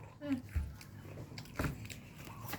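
Two people eating food, with crisp bites and chewing noises close up, two main crunching bursts amid quiet mouth sounds and faint background.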